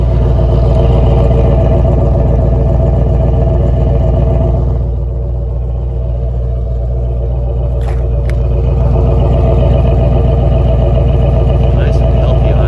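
A 1966 Ford Mustang convertible with the 289 V8 and dual exhaust idles close by, a steady deep rumble that dips slightly midway and then holds even.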